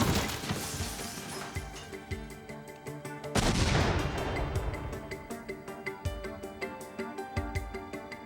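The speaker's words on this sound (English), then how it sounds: "In an instant, the pipe bursts, sending razor-sharp fragments of steel and nails in all directions at deadly speed." A pipe bomb packed with steel and nail fragments bursts amid a dense barrage of sharp blasts and crashes, with a heavy detonation near the middle and rapid impacts continuing loudly throughout.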